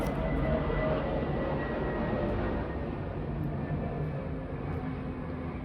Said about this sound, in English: military jet going overhead. You may be able to hear it.